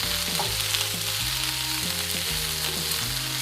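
Brussels sprouts fry and sizzle steadily in a hot pan, seasoned with a pinch of salt, giving a loud, continuous crackle with no voices.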